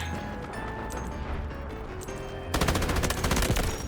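Automatic gunfire in the war shooter game Delta Force, scattered shots giving way to a loud, rapid burst of machine-gun fire close by.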